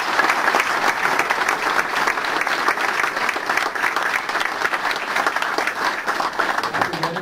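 Sustained applause from an audience at a political dinner event, many hands clapping in a dense, steady patter that holds loud and even for several seconds without voices.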